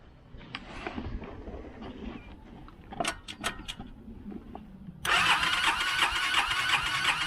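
An engine starts up after a quiet stretch with a few sharp clicks and knocks. At about two-thirds of the way through it catches with a sudden, loud, steady roar that holds to the end.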